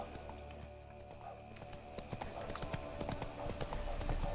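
Horse hooves gallop in a video game, a steady clip-clop rhythm close up that grows busier and louder toward the end, with a brief whinny-like tone underneath.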